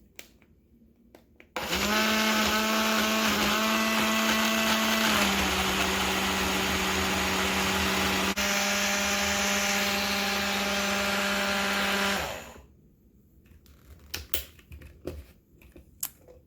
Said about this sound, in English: After a minute or so of continuous blending, you have a creamy, delicious strawberry smoothie